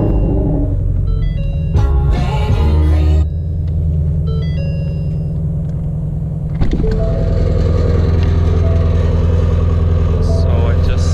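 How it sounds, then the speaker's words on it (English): A Ford Mustang GT350 with a rattling broken part: after some quiet clatter, the engine cranks and fires with a sharp burst, then settles into a loud, steady, deep rumbling idle. "So I'm gonna turn on the car."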